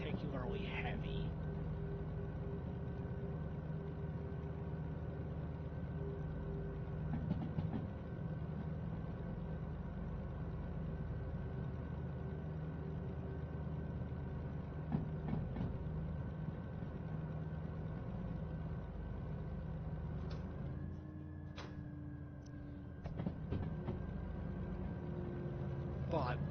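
A mostly empty, fairly light train runs in the VR game Derail Valley, its locomotive giving a steady low engine drone throughout while a person talks over it.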